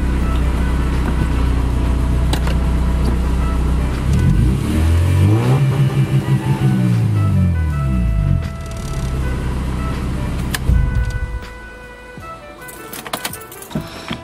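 A Honda H22-engined CB7 Accord revs up and down in rising and falling sweeps through its exhaust, loud and close, using a two-step limiter, then cuts out with a few crackles as it settles.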